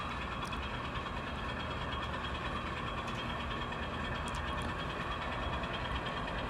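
An empty coal train rolls past a small private crossing on an Ohio line, a continuous, fairly distant rumble and clatter of wagons with steady loudness and occasional faint metallic squeals.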